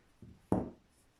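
Scissors snip through crochet yarn while finishing a triangular lace corner motif: a soft first touch, then one sharper, louder cut, close by and otherwise quiet.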